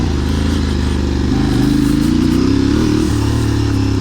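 A 2022 Aprilia Tuareg 660 adventure motorcycle runs along off-road trails, its mid-pitched engine droning steadily close by and rising slightly in pitch midway, loud and continuous without any voices.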